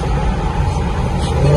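A Dodge Hellcat engine rumbles loudly and steadily nearby, a deep sustained revving drone with no break.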